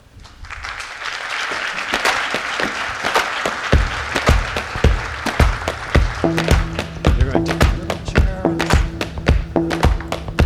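Audience applause after a live demo at an agentic AI and automation event, a dense crowd clapping throughout, joined midway by a loud, steady thumping beat with a repeating tone underneath.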